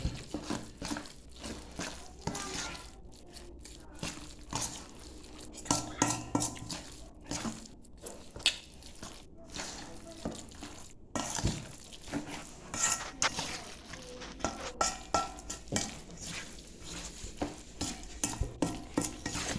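A utensil stirs shrimp in a metal pan, scraping and clinking steadily with a faint sizzle, close and continuous, with no talk over it.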